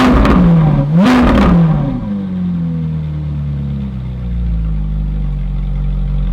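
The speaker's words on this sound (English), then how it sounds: "blipping the gas got up to about 130-ish decibels" Ferrari 458 V8 on its stock exhaust with the valves open, given a sharp rev blip that flares loudly and falls away within two seconds, then settles into a steady, rumbling idle just after a cold start.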